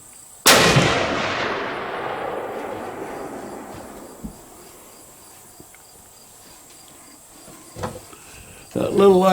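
A lightweight deer rifle fires a single loud, sharp shot at a target 100 yards away, followed by a long rolling echo that fades over several seconds, then a few faint knocks and rustles.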